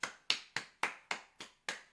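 Seven separate sharp hand claps at a steady rhythm, close and fairly quiet, each one a crisp slap with a short decay and brief silences between.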